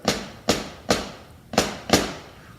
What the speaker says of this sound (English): what makes that flam sound is having that tap stroke and the full stroke together